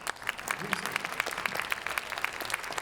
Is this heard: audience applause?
yes